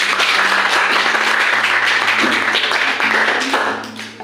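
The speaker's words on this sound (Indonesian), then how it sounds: "tepuk tangan untuk Alia" A classroom of students applauds a classmate, with dense, steady clapping at close range that fades out near the end.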